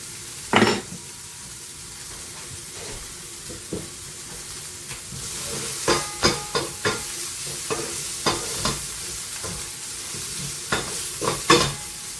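Bacon and onion fry in a pan with a continuous sizzle close by. A spoon scrapes and taps against the pan in a run of sharp strokes, bunched mostly in the second half.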